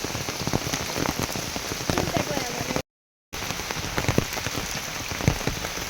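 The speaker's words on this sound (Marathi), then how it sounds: "पाऊस पडतोय चांगलाच" Heavy rain pours steadily onto a paddy field in Konkan during rice planting, a dense, continuous hiss with close drops pattering throughout and a brief silent gap midway.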